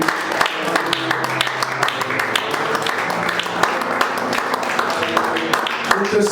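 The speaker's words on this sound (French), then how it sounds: "Est-ce qu'on peut prendre juste un temps pour applaudir Jésus?" A Sunday church congregation applauds in worship, a moderate crowd of hands clapping with scattered sharper claps, while sustained musical tones and voices carry along underneath.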